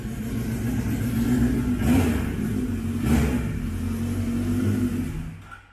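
A 1970 Kawasaki GA3 motorcycle ridden close by, its small engine droning steadily and rising in two brief revs before easing off at the end, with no talk.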